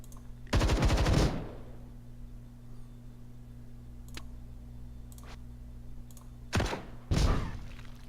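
Automatic gunfire from a squad of soldiers in the sci-fi tactics game Templar Battleforce: two loud sustained bursts, one at the start and one near the end, with sparse clicks and thuds in between and no voices.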